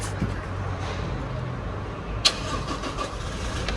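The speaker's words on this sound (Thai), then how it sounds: "เดี๋ยวสตาร์ทรถให้ทุกคนได้รับชมกันนะคะ" A 2018 Toyota Fortuner 2.4V is push-button started, giving one sharp starter catch that settles into a steady, close engine idle with no talk.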